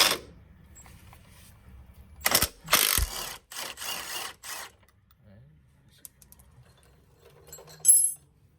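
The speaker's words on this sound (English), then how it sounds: "Probably gonna hold that top with a wrench and then turn the nut off." A wrench turning the nut off a Koni shock absorber on a C5 Corvette: short bursts of metallic ratcheting clicks up close, with quiet gaps between them and a brief clink near the end.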